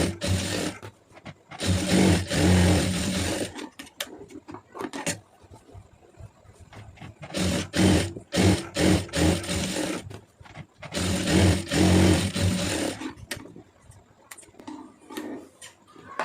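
A blouse is stitched on a sewing machine, with two long, loud continuous runs separated by a cluster of short quick bursts and quiet gaps. The machine is close and no one speaks.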